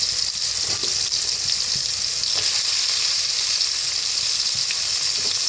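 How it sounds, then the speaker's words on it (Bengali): Green peas, already sprouted, sizzle steadily in a hot pan of oil, a continuous even frying hiss with faint occasional crackles and no voices. "এই পর্যায়ে আমি এবারে কড়াইশুঁটি, যেটা আর কি মটরশুঁটি বলে, সেটাকে দিয়ে দেবো।"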